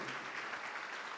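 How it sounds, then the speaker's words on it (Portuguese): Brief burst of steady clapping from a church congregation during a worship service, a soft, dense patter of many hands at moderate distance with no voices standing out. "Vamos aplaudir ao Senhor."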